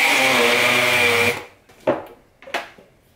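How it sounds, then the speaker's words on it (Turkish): A hand blender whirs steadily for about a second and a half while making sugar-free ice cream, then cuts off, followed by a few sharp knocks and clicks of the attachment. "El blender parçasını takayım."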